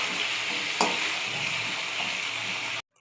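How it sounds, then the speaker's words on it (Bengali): Chicken pieces frying in hot oil, a continuous close sizzle with one sharp clack early on, cutting off abruptly near the end. "তো এখন চিকেনটা ভেজে নিচ্ছি"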